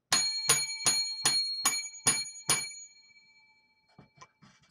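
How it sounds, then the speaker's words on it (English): Seven bright ringing strikes of a set of lucky bells, each a sharp evenly spaced ding with a shimmering decay, followed by a few faint soft clinks as the ringing dies away. "7 lucky bells"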